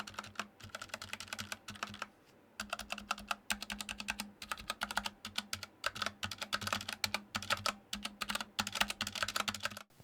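Steady typing on an X-Bows mechanical ergonomic keyboard, with dense, clacky key presses in quick bursts and a brief pause near the two-second mark, close and clear with no talking.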